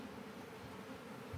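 Honey bees hum steadily while being shaken onto brood frames for a queen-rearing cell builder colony, a low, continuous close-up buzz with faint rustling and no voices.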